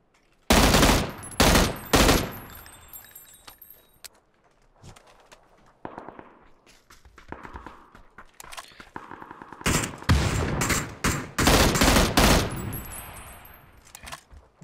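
Gunfire in the video game PUBG, with sharp loud bursts of rapid automatic shots in several clusters separated by quieter gaps, some bursts near and some farther off.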